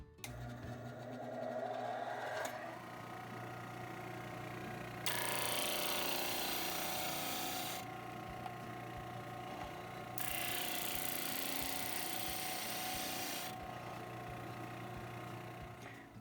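Harbor Freight milling machine squaring a wooden pen blank with a glued-in brass tube, a whirring mechanical motor hum with repeated cutting passes that swell into louder hissing bursts, no talking.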